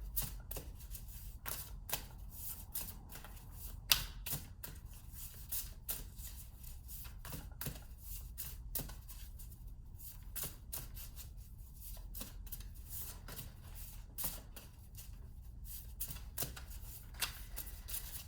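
Rapid crisp riffling and snapping of playing cards being shuffled, repeated in bursts with brief pauses, close and fairly quiet.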